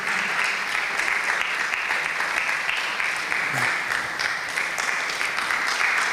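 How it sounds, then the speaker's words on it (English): An audience at a student council presidential debate applauds for the SRC Attorney General, steady clapping from a crowd filling the room with a few faint voices underneath. "Oh, are we clapping for her?"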